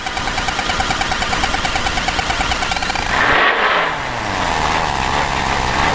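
A NASCAR stock car sits idling at a Las Vegas track, its engine burbling with a rapid, rough pulse, then rising briefly into a louder rev before settling back to a steady, slightly higher idle.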